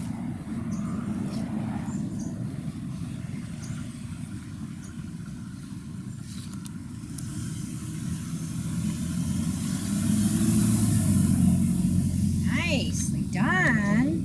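A car approaches and passes along a street during an orientation and mobility lesson. A low engine and tyre rumble builds steadily and is loudest near the end, with someone speaking briefly over it.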